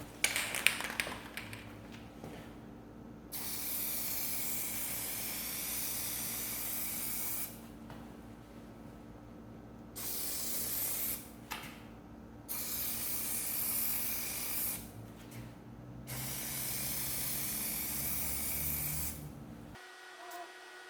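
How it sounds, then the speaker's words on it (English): Plasti Dip aerosol can spraying a coating onto faded car rubber trim, heard as several long steady hissing bursts separated by short pauses, close and fairly loud, with no talking. "So now I can start spraying."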